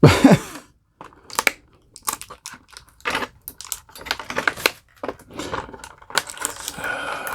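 Packing tape is peeled and torn off a Minimates Spider-Man toy box, a run of irregular close crackling rips and sticky snaps with short pauses between them.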